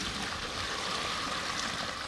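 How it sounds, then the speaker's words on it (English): Water from a bucket pours into a worm composting unit, making a steady, continuous rushing splash that stays at an even level for about two seconds, with no voices. "I'm going to pour this bucket of water into this unit."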